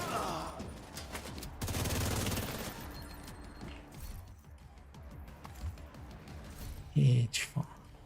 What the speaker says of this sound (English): Two people are shooting now.